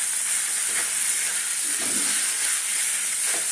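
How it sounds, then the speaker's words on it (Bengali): Chillies hit hot oil that already holds whole cumin, in a Bengali pan of ash gourd and chickpeas, giving a steady, even sizzling hiss that carries on throughout with no voices. "এবারে দেবো লঙ্কা"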